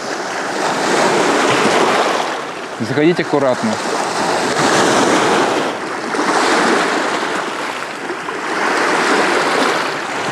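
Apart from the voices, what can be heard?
sea surf waves on beach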